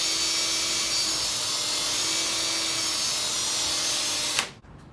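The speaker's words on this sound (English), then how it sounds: "What I'm gonna do is drill it out a little bit bigger than the actual size" A power drill whines steadily and loudly, close by, while enlarging a stud hole in a Jeep during the install of an sTec switch system. The drill runs for about four seconds and then stops suddenly.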